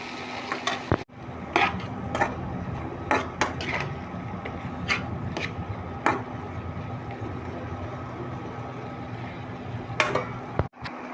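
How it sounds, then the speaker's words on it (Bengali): Ginger, onion, turmeric and chili fry steadily in a pan with a continuous low sizzle, broken by sharp utensil taps and scrapes against the metal every second or two, close and moderately loud. "এই যে হলুদ মরিচগুলো আমি ভেজে নিচ্ছি।"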